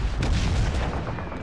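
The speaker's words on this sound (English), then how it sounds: "This gun here is basically like your very own portable machine gun." Portable machine gun firing in Call of Duty 2 during the Operation Husky level, a dense continuous burst of heavy booming shots, loud and close, with no talking.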